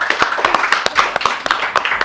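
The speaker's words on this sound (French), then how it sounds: "Applaudissez pour David!" Rhythmic clapping from an audience at a children's TV game show, cheering a contestant; sharp, distinct claps land roughly four per second, close and fairly loud, with faint vocal sounds mixed in.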